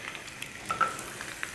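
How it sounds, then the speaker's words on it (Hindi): Chickpeas sizzle softly in a hot tempering with black pepper and almonds, a faint continuous frying crackle with a few small pops. "तड़का लगने लगा है अब चनों"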